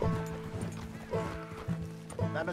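A horse in Red Dead Redemption 2 clops and shuffles with its hooves, giving a few soft, uneven thuds at a moderate distance, mixed with quiet game sounds.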